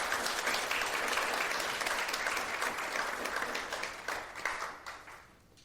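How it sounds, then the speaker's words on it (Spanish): An audience at a university legal lecture on amparo law reform gives steady, dense applause that gradually thins and fades out toward the end, with no speech over it. "Un aplauso, por favor"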